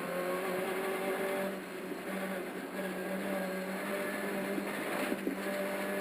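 A rally car accelerates on a stage with a muffled, steady engine drone and faint tonal whine, heard from inside the car at moderate level with no talk over it.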